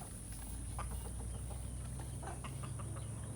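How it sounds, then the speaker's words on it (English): A farmyard full of chickens, with scattered clucks and short calls from several birds rising over a steady, noisy outdoor background and a constant high hum. "It's the farmyard. This is the farmyard."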